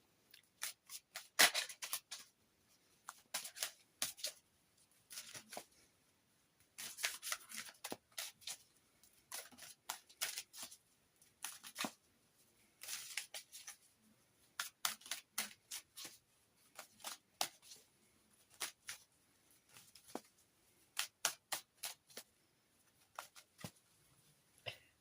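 Tarot cards, oracle cards from a Seasons of the Witch Samhain deck, are shuffled and drawn in a quiet room, with bursts of crisp riffling and soft slaps that come in irregular clusters throughout, close and fairly faint, with no talking.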